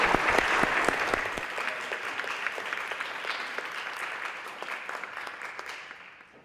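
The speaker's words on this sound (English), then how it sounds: "Let's give them one more round of applause" An audience at a Rothko Chapel panel on health care and justice claps for the panelists, starting loud and dense with sharp individual claps, then gradually thinning and fading away.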